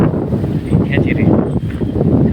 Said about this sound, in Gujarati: સાંજ પડતા ભાઈ પવન પણ સારો ઉડ્યો.